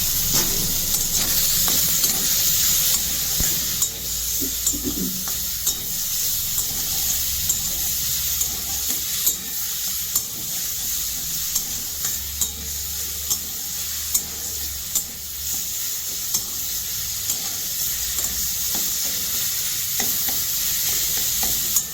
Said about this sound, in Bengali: একটু ভালো করে ভেজে নেব, হলুদের গন্ধটা যেন চলে যায়।